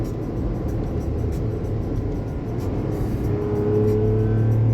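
A Mazda CX-60 3.3-litre turbo diesel engine revs steadily up to around 5,000 RPM near the redline, a loud continuous drone whose pitch climbs in the final second.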